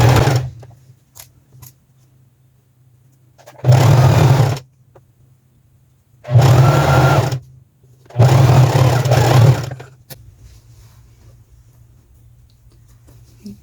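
A sewing machine stitches the front crotch seam of elastic-waist trousers in three loud, buzzing bursts of rapid stitching, separated by quiet pauses with small handling clicks.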